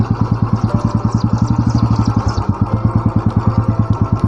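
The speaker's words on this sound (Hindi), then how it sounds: "कच्चे रोड में फिर बुलेट राइड ही चलती है।" A Royal Enfield Bullet motorcycle engine thumps steadily on a dirt village road, its rapid, even pulses loud and close throughout with no pause.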